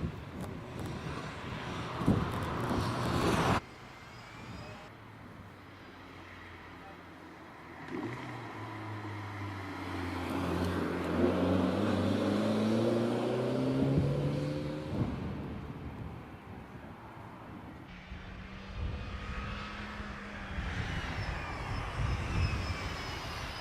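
An early Mazda MX-5 sports car races up the Prescott hillclimb course, its engine note rising and falling through gear changes as it passes at moderate distance, with a sharp cut near the start and a steady drone afterwards.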